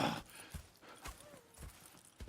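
Horse hooves clip-clop in Red Dead Redemption 2, a steady sequence of about five distinct thuds at an even walking rhythm, fairly close and moderately quiet, with faint background sounds between steps.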